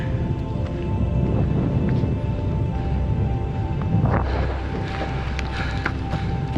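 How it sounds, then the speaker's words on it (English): Wind buffeting the microphone on a mountain hike in Iceland, a steady broadband roar with low rumbling gusts that swell and ease throughout, loud and close with no voices. "Wind's probably 10 miles an hour, which is nice."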